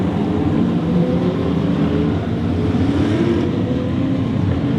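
Owen Bishop's Dodge TransAm race car running on the circuit during qualifying, a steady loud engine roar holding throughout with no talk over it.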